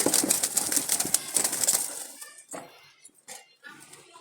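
Jalali pigeons fluttering and shuffling close by, then soft intermittent coos and rustles in a quieter stretch, with no voices.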